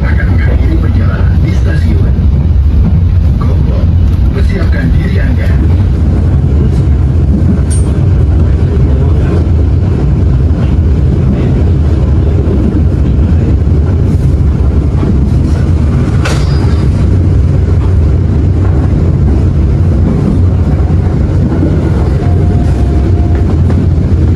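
A Pasundan passenger train rumbles steadily along the tracks in Indonesia, loud and close, with a constant low roar and faint rattling throughout, approaching Gombong station.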